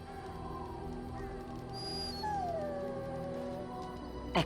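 A dog howls in a Dragon Age Origins game scene, a long rising-then-falling wail drawn out over a quiet ambient backdrop with a sharp sound at the end.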